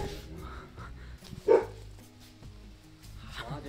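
A muzzled dog in a hill village gives a single short, muffled bark up close, heard against rumbling background noise outdoors.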